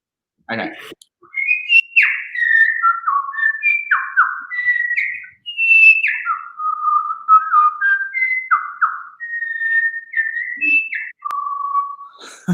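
A person whistles a long run of bird-like phrases, rising and falling chirps and trills in quick succession, loud and close, nearly continuous for about twelve seconds and imitating birdsong.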